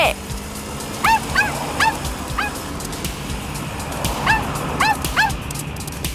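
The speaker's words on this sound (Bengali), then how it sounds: "ডগি কেন ডাকছে?" A dog gives a series of short, high yips and whimpering barks in small bursts, fairly close, over a steady background hiss.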